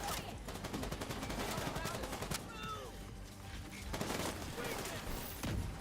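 Gunfire in The Division 2 during a PvE match: rapid, dense bursts of shots and sharp cracks, loud and continuous, with the volleys running almost unbroken throughout.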